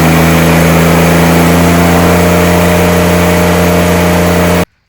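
A Kubota BX compact tractor fitted with a turbo kit runs at a steady, loud, close drone with a strong low hum, holding constant until it cuts off abruptly at the end.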